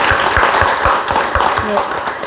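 Audience at an education forum in a hall applauds to welcome a speaker, steady dense clapping from many hands, close and continuous for the whole moment.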